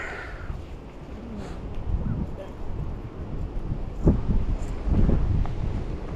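Wind buffets a microphone at an outdoor midday photo shoot, a steady low rumble swelling in gusts with a couple of sharper bursts, and faint voices talking in the background.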